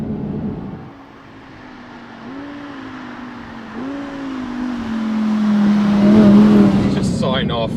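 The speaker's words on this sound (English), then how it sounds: "Just sign off enjoying the sound of the V10, because let's face it, that's what dominates this car." Audi R8 with a V10 engine heard while driving, its steady engine note rising and sliding in pitch as it pulls through gears, loud and close, growing stronger toward the end.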